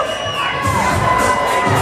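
A roller derby crowd cheers and shouts from the stands as one loud, sustained wall of voices with high whoops, with no pauses.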